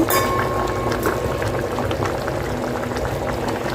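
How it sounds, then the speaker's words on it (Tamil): Thick vegetable curry bubbling and popping steadily in a pot, close up, with constant low gurgling throughout. "குழம்பு நல்லா கொதிச்சு வந்தாச்சு"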